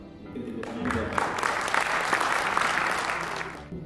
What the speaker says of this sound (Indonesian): Mungkin tepuk tangan buat Pak.